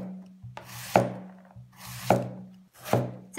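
A knife slicing two apples on a wooden cutting board, three even cycles of a drawn cutting stroke ending in a firm knock on the board, close and clear with no voices.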